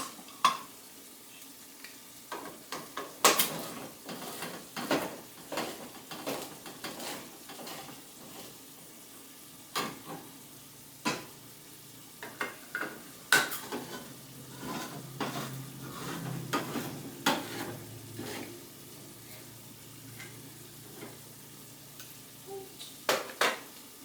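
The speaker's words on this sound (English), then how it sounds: "I'm going to add in tomato sauce and diced tomatoes" Tomato sauce and diced tomatoes are stirred into cooked ground burger in a pan, with a quiet bubbling sizzle under frequent clinks and scrapes of a utensil against the pot.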